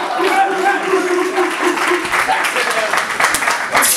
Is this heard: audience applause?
yes